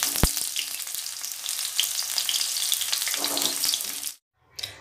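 Jackfruit pieces frying in hot oil give a loud, steady, dense sizzle with a sharp knock near the start. The sizzle cuts out abruptly near the end, then briefly returns.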